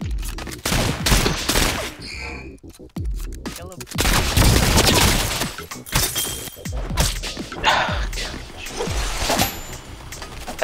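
Rapid gunfire in the video game Rounds, dense bursts of sharp shots and crackling impacts in quick succession, loud and continuous with brief gaps.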